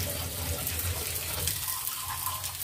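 Water is added to a cooking pot of simmering vegetables with jute leaves, making a steady, continuous pouring wash close by with no talk.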